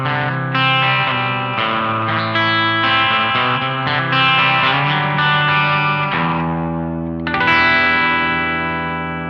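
Burny RLG 60P goldtop singlecut electric guitar played through an amp in a clean setting, a continuous run of strummed chords and single notes with chorus and reverb, warm and full, with a shift to a brighter chord near the end.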